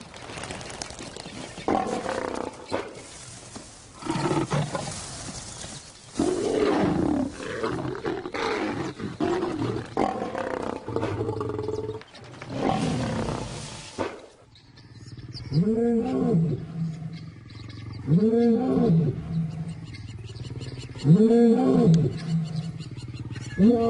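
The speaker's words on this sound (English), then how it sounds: "And as they roar their displeasure, the cubs scatter into the bush," Wild lions roar in the bush during an attack that scatters their cubs. The roars are rough and overlapping at first, then come as clear, repeated, deep roars at a steady rhythm, close and loud.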